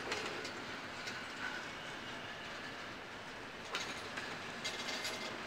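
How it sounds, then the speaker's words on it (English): The tail of a CSX freight train rolls past with a steady, faint rumble of rail cars and occasional louder wheel clatters and squeals. "here comes the end of the train"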